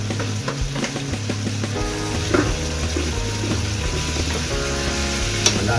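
Bottle gourd (upo) sautéing in a pan with oyster sauce: a continuous close sizzle and crackle of frying, with scraping and clinking from stirring.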